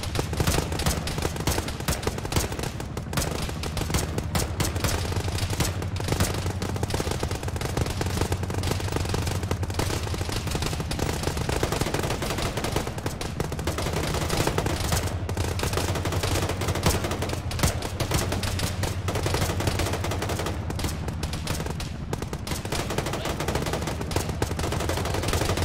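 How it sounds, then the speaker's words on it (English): Sustained heavy gunfire from a squad firefight in the Arma military shooter, with dense, continuous automatic bursts and overlapping shots at a steady loud level throughout, with no speech. "We're committed, we're just gonna engage from here."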